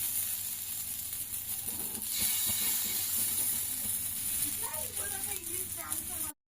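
Broccoli florets shallow-fry in a little oil in a pan, giving a steady close hiss and sizzle, with a few faint kitchen clatters and a voice briefly heard near the end.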